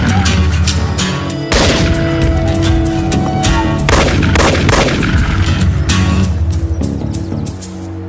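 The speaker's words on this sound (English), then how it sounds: "Good shooting, Ray." A shootout in a TV police drama: a rapid series of loud, sharp gunshots and booms, close and repeated, with a denser burst midway and a scene rumble underneath.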